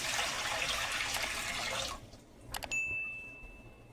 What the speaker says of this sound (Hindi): इसमें पानी ऐड करते हैं। तकरीबन 1 लीटर पानी है।